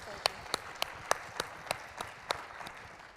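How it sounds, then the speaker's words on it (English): Sparse applause after a lecture in a preaching series: a handful of distinct, spaced claps over a low background murmur, fairly faint and thin rather than a full crowd. "please join me in giving a round of applause to Dr. Liz Valle-Ruiz"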